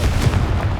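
A Confringo fire spell explodes in Hogwarts Legacy, a short, loud, muffled boom that fills the moment without any speech.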